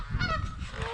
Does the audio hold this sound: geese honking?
yes